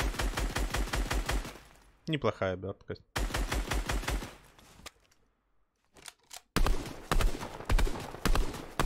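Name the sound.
gunfire in Fortnite, video game, weapon with wrap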